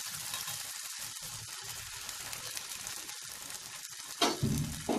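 Semolina uttapam batter hits a hot pan with a steady sizzle throughout, brief quiet gaps between bursts, and a louder crackling flare near the end.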